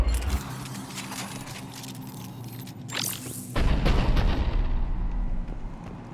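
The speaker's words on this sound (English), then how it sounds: "The cannon fire is clearing the way." A Cerberus cruiser fires cannons in the video game Mass Effect 3, with deep booming blasts and a rising whoosh, then a heavy sustained rumble, loud and close, with no talking.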